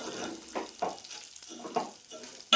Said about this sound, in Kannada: ಗೋಡಂಬಿ ಒಂದು ಸ್ವಲ್ಪ ಫ್ರೈ ಆದಮೇಲೆ ಶಾವಿಗೆ ಹಾಕ್ಕೊತಾ ಇದ್ದೀನಿ